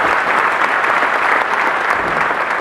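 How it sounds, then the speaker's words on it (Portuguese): An audience at a Tocoist church congress claps in steady, unbroken applause, a dense wash of hands heard close and sustained throughout. "Palmas para vocês também."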